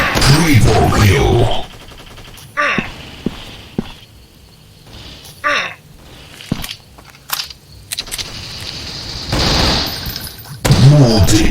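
Bursts of rapid gunfire crack out in the shooter video game Strike Ops, sharp volleys and single shots scattered between quieter gaps, with a voice speaking over the game sounds.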